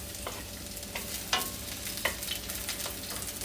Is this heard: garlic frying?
yes